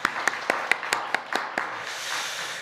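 A church congregation claps during a worship service, giving a short burst of sharp, fairly even claps that thin out into a softer patter near the end.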